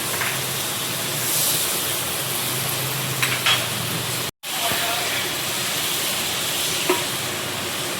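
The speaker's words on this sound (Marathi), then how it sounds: "पॅन मध्ये आता मी बटर टाकणार आहे" Butter melts in a hot pan for a butter garlic chicken dish, giving a loud, continuous hiss and sizzle close by, with a brief cut partway through.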